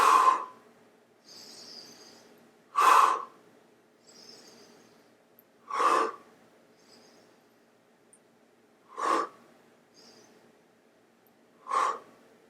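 Breathing during a back-strengthening floor exercise at a wellness studio: five strong, regular exhalations spaced about three seconds apart, each followed by softer inhalations, close to the microphone with no talking.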